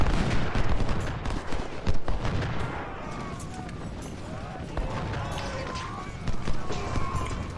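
Gunfire and artillery in the Civil War video game Ultimate General: Civil War, with scattered shots and booming blasts rolling through a dense battle din, a voice talking over the fighting.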